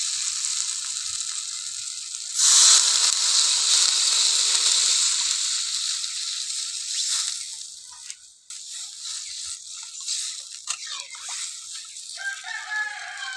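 Water poured into fried spice paste for an egg and potato chop korma sets off a sudden loud, hissing sizzle that stays harsh for several seconds, then slowly dies into softer bubbling and crackling.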